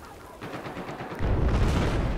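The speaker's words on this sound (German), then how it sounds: "Ja, jetzt beginnen sie mit dem Mörser." Mortar fire in the Battlefield 4 game: a steady rumble of distant blasts and battlefield noise that swells into a louder, heavier low roar about halfway through, with no talking.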